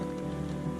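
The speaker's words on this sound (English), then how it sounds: "Rain. I'm just going to hammer it down soon." Steady rain patters densely on a surface along a mountain trail in Wales, a constant close hiss with no pauses or voices.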